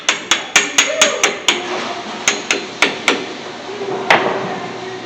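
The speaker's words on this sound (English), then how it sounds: "You may have to have a hammer to tap them on." Hammer tapping new brake pads onto the caliper of a 2011 Ford F-150 during a brake and rotor job, a run of about a dozen sharp metallic knocks in quick uneven bursts, close and clear.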